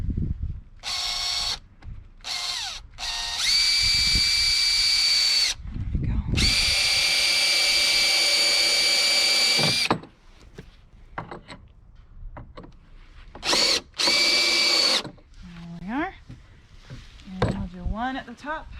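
A power drill drives 2.5-inch screws into the wood of a planter box in several loud whining bursts of varying length, separated by pauses, handling noise and some talking.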